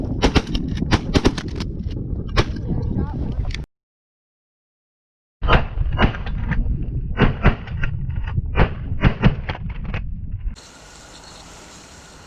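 Shotgun blasts during a goose hunt ring out as a run of sharp, loud reports in open air, broken by a short silence, with wind rumble at the end.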